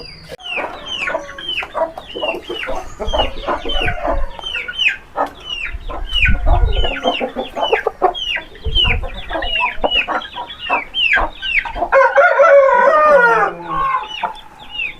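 Chickens cluck busily and close together on a rooftop farm, with a rooster's crow breaking through near the end; a lively, continuous barnyard chorus with no talking.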